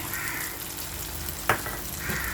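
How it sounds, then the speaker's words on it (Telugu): Ginger-garlic paste with coconut and cashew paste hitting softened tomatoes in a hot pan, a steady hiss of frying with one sharp clink or stir near the middle, no talking. "దీంట్లో అల్లం వెల్లుల్లి పేస్టు, కొబ్బరి, జీడిపప్పు పేస్టు"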